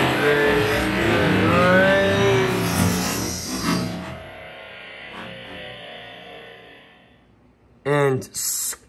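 Diecast glow-in-the-dark monster trucks race on a drag track, making a loud, distorted rolling whir that fades over about seven seconds, followed by two short bursts of voice near the end.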